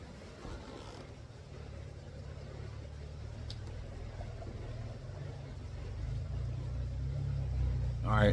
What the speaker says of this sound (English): that was a truck going down the road